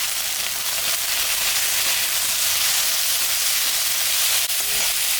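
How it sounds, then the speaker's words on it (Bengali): Onion and potato fry in a pan with oil, giving a loud, continuous, even sizzle and hiss that holds steady throughout, close to the microphone. "পেঁয়াজটা একটু ভাজা ভাজা করে নিই"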